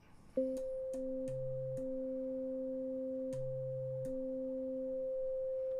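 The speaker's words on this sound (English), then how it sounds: "So there's that sine wave." Steady pure sine tones from a Doppler FM synthesizer, a sustained higher note held throughout while a lower tone steps between pitches, clean and fairly loud with faint clicks at each change.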